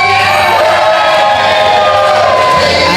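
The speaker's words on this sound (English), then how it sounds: "just listen to this crowd" A pro wrestling crowd at a student-versus-teacher match roars with steady cheering and whooping, a dense continuous wash of many voices throughout with no clear breaks.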